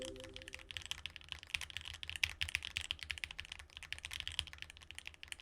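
Quick, steady typing on a Bear65 mechanical keyboard, the keystrokes clacking close and crisp in a dense, even rhythm with no voices.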